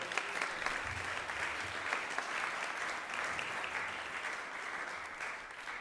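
Visitors at a fundraiser for the Radha Govinda Temple of ISKCON New York give themselves a round of applause, a steady, fairly quiet spread of clapping.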